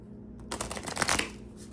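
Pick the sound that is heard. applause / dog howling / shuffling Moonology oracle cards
shuffling Moonology oracle cards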